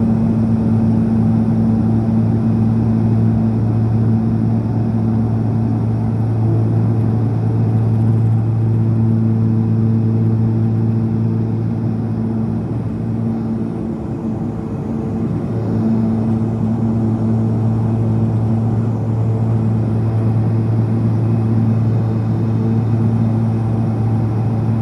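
An aircraft departs the runway at Massena, New York. A steady, loud engine drone with sustained humming tones holds for the whole stretch, with no voices.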